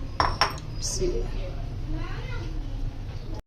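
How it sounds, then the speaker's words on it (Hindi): Cheesy chicken mixture being scooped from a pan into a bowl, with a few sharp metal clinks of spoon against cookware near the start, then softer scraping and shuffling under a voice speaking close by. "अब इसको हमने एक बाउल में निकाल लेना है"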